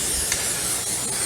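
A can of cooking oil sprays onto a non-stick muffin pan in a steady, close hiss lasting just over a second, with no talking.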